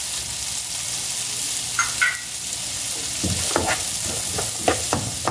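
Garlic and a small onion sautéing in a pan give a steady close sizzle, with spoon scrapes and clinks growing busier toward the end and no voices.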